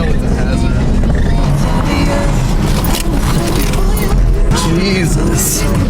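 Engine of an abandoned, worn-out Nissan Fairlady Z with faulty brakes runs while the car is driven, a loud, rough, continuous rumble with rattling, heard from inside the car as voices talk over it.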